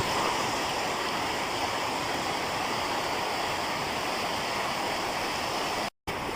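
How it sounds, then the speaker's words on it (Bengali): Heavy monsoon rain falls in Noakhali, Bangladesh, as a dense, even roar of downpour that fills the whole stretch, loud and continuous, cut off abruptly by a brief gap near the end. "বাংলাদেশের আষাঢ়ে বর্ষার ভারী বর্ষণের চিত্র এটি"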